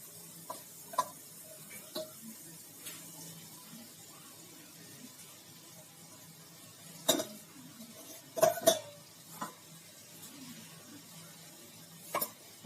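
Okra and onions hit hot oil in a pan and are stirred, giving a faint background sizzle with scattered utensil clinks and scrapes against the pan, a few sharper knocks standing out.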